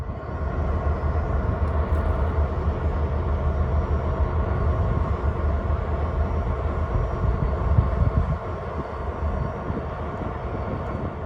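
An EMD GP38-2 diesel locomotive idles and runs in a rail yard, giving a steady, loud low rumble that holds for about eight seconds and then eases slightly, with no talking.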